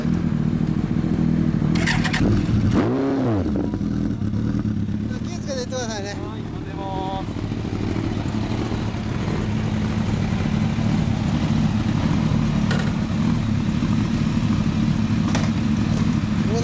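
A 2000 Kawasaki Ninja ZX-12R motorcycle with an aftermarket Trick Star exhaust idles loud and close with a throaty note, rising in a couple of brief revs, while people talk over it.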